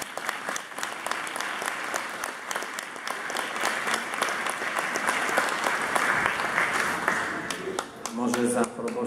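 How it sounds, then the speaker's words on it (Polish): Applause from a congregation in a church during the Easter Vigil, a dense sustained clapping that fills the space for the full length, with a voice briefly heard near the end. "Tutaj się należą Wam oklaski,"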